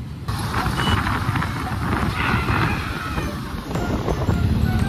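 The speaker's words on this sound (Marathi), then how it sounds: "ही बघा ही सोलापूर हायवेची ट्रॅफिक, सगळ्यात भंगार ट्रॅफिक इथली असते" Heavy traffic on the Solapur highway: a dense, steady rumble of trucks and cars with wind buffeting, plus brief beeps.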